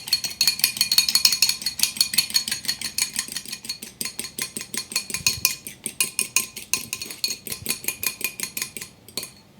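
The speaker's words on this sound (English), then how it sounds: "I'm gonna grab a fork, and I'm just gonna whisk it up" A fork whisks egg yolk in a bowl for a gluten-free wedding cake, giving a fast, steady run of light metallic clicks and scrapes that keeps its rhythm and slowly fades toward the end.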